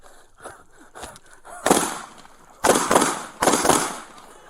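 Gunshots fired at close range during a police encounter where a taser failed, three loud sharp bursts after a stretch of muffled commotion and voices.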